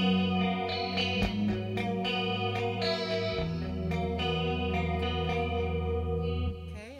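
A clean electric guitar is played through a pedalboard with compression, chorus and heavy pre-delay, giving shimmering, icy sustained notes with short picked attacks and a wide, echoing wash that rings on alone.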